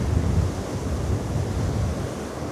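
Sea waves break near a rocky fishing spot, making a steady low rumble and wash mixed with wind buffeting the microphone. No voices are heard.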